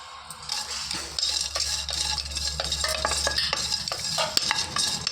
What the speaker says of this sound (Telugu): ఈ వట్టి చేపల్ని నార్మల్గా వేయించుకుంటాను ఫ్రెండ్స్